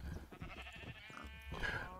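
Sheep in a Minecraft modpack game give a few bleats, including one clear wavering bleat near the end, with other animal noises and clicks around them.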